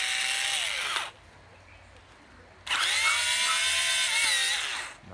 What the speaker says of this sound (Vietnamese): Con này là máy khoan Hitachi.